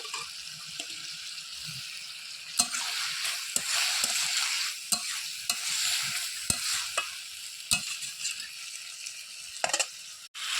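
Tomato goes into mixed vegetables frying in a pan, giving a close, hissing sizzle punctuated by sharp spoon taps and scrapes against the pan at irregular intervals.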